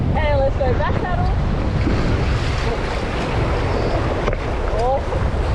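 Whitewater rafting on the King River: rushing water and wind noise throughout, with paddles stroking the surface and a few brief high calls heard over the river's steady roar.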